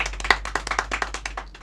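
Short burst of hand clapping from a small studio group welcoming the Miss Uttarakhand 2025 winners on a radio show, with distinct individual claps in an uneven rhythm, close and moderately loud.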